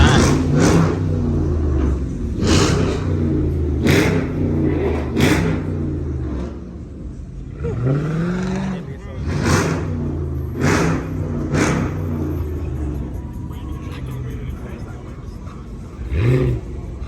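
At a car meet, Dodge Scat Pack Hemi cars rev their engines in repeated bursts. Loud throaty surges rise and fall over a steady idling rumble, with people talking and shouting nearby.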